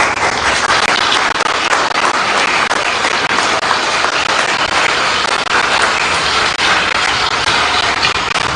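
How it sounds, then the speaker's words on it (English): Dense, continuous applause from an audience at a political party's presidential primary in Abuja, loud and steady throughout with no pauses. "So let's give a round of applause for them."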